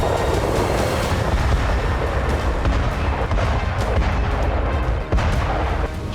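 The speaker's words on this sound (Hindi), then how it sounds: "हर मिनट बारूदी धमाका" Explosions and artillery fire from the Russia–Ukraine war roar continuously as a dense, heavy rumble with wind buffeting, without clearly separated blasts.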